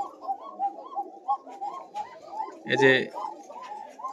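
White Koka pigeons coo at close range on a pigeon farm, a soft rolling murmur that runs steadily beneath a man's speech, with a brief louder flutter near the end.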